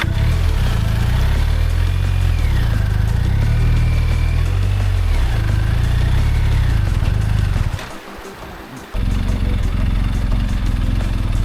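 A 250 kg motorbike climbs a steep road on a New Zealand South Island tour, its engine droning loud and steady with rising and falling revs, dipping briefly as the throttle eases before pulling hard again.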